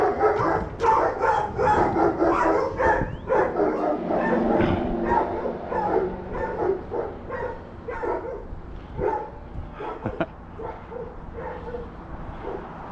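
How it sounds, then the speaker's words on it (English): Several dogs barking together nearby, a rapid overlapping run of yips and bow-wows with occasional whimpers, loud and continuous for the whole stretch with little talk. "That whole gaggle of dogs in there."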